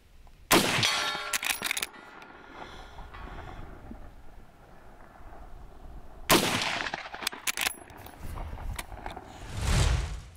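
Henry 360 Buckhammer steel side-gate lever action rifle firing at steel targets outdoors: two loud, sharp shots several seconds apart, each followed by a ringing metallic clang from the hit, with wind buffeting the microphone.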